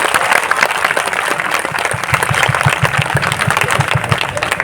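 Loud, sustained applause from a large crowd at a May Day gathering, dense clapping filling the whole stretch without pause.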